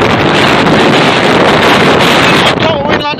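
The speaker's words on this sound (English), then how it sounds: "It's very windy." Strong wind roars across a hilltop at Whinlatter, buffeting the microphone with loud, continuous rumbling gusts that ease slightly near the end.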